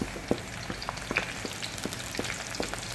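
Onion frying in a pan for Filipino arroz caldo gives a steady, fairly quiet sizzle with scattered small pops and crackles throughout, heard alone without talk.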